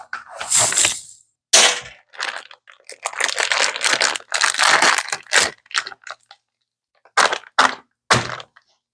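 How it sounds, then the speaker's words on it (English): A bicycle chain is pulled from a bag amid bursts of crinkling plastic and metallic rattles, loud and close, broken by short silent pauses. "We got a chain out of the bag,"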